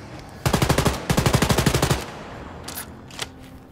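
Automatic gunfire in the shooter game Wolfenstein Youngblood: a short burst, a brief pause, then a longer rapid volley of sharp, loud shots, followed by a few scattered quieter bangs.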